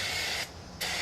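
Aerosol brake cleaner sprayed onto car brake parts during a wheel cylinder change, two loud steady hissing bursts split by a short pause, close up and with no talking.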